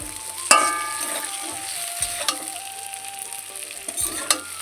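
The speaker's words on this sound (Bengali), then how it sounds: "মাছের তেল আর বেগুন আমার ভাজা হয়ে গেছে।" Fish oil with eggplant, onion and green chilli frying in a pan, a steady close sizzle with sharp crackles and spatters, a few louder pops and stirring scrapes.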